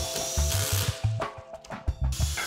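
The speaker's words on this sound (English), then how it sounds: "we glue and screw the solid birch face frame together" A power drill drives screws into a solid birch cabinet face frame in short, quick pulses, close and fairly loud, with scraping and handling sounds of the wood between bursts.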